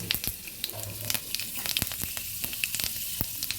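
Panch phoron spices hit hot mustard oil and sizzle steadily, with dense crackling pops spattering close by throughout.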